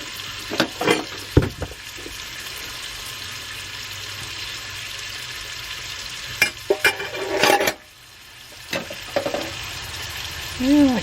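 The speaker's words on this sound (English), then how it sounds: "Get a nice good sear on it with some good heat." Scallops sear in a hot pan with a soft, continuous sizzle, broken by clattering utensil and pan knocks and scrapes. There is a sudden quiet stretch before the clatter resumes.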